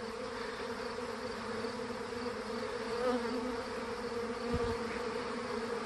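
A honeybee swarm clustered on a tree branch gives a continuous, steady buzzing drone, close and moderately quiet, with no voices.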